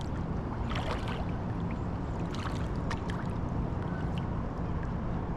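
Paddle strokes dipping through river water from a small boat on the Cuyahoga River, a few soft splashes and drips over a steady outdoor wash of water and light wind, quiet and close.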